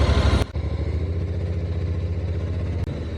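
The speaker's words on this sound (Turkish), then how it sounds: "Bugün motorla geçiyoruz." A motorcycle engine runs steadily and close in a pulsing, mid-pitched drone while touring on the road toward Zadar, with a brief sharp shift in tone near the start and a short dip near the end.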